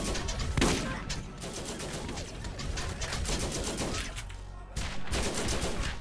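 Automatic turret firing in Borderlands, a dense rapid fusillade of gunshots that runs almost the whole time, loud and close with brief gaps between bursts and no talk over it.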